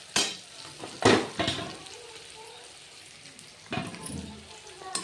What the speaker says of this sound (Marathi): कांदा कोथिंबीर सगळं टाकून घेणार हे सगळं आधी हलवून घेऊया